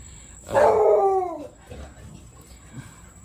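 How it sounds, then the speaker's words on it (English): Dogs at a lakeside fishing spot let out a loud drawn-out howl with a bark, rising and sliding down over about a second, followed by a few faint yips and whimpers in a quiet outdoor setting. "The dogs have made their appearance for this video."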